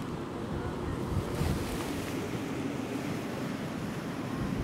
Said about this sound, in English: It's windy, it's grey, it's rainy.